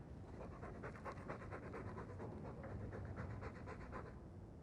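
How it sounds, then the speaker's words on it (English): A dog from the video game Dragon Age pants heavily and steadily in a stuffy room, a quick, even run of breathy huffs that is soft and close, with no talking over it. "All that noisy dog breath, day in, day out, make him stop."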